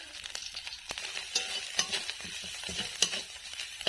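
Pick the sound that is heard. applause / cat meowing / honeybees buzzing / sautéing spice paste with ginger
sautéing spice paste with ginger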